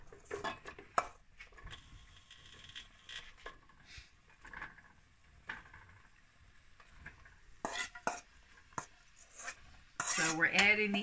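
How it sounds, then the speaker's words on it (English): Onions with salt and pepper go into a pot for French onion soup, heard as intermittent scraping, stirring and utensil clatter against the pot, close and fairly quiet, with a louder burst near the end. "So we're adding the onions, you know, salt and pepper"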